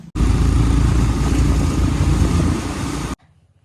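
A motorcycle being ridden on a long road trip, its engine giving a loud, steady roar with wind noise for about three seconds before cutting off abruptly, and no talking.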